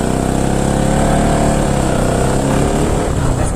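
Motorcycle engine running steadily and loud throughout, a close continuous low rumble with no pauses as the bike idles or rides on a road trip.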